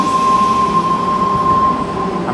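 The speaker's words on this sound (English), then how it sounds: "I'm currently at Redfern's underground platform." Train at Sydney's Redfern underground platform, a loud, continuous rumble of rail cars with a steady high whine from the wheels or motors, echoing in the enclosed station.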